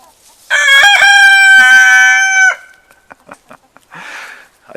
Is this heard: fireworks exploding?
no